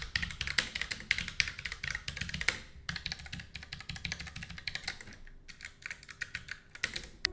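Fast, clicky typing on a Redragon Shrapnel K589 mechanical keyboard with Blue switches, crisp keystrokes in bursts with brief pauses, close and alone.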